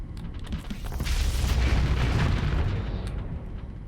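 Weapons fire and explosions from the space combat game Starsector blend into a dense, rumbling roar that swells and holds for a few seconds, loud and continuous with no talk over it.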